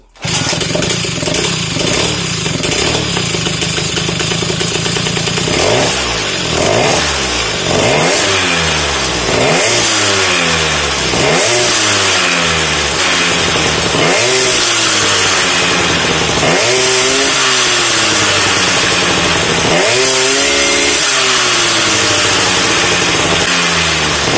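An MBK 51 Magnum moped engine starts and is revved repeatedly, its loud buzzing two-stroke note climbing and falling in a series of rising throttle blips over about twenty seconds, close and alone.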